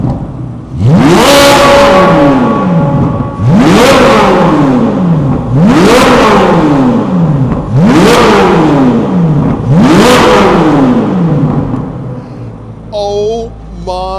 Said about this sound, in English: we're about to do the revs. We're gonna let the Z06 start first.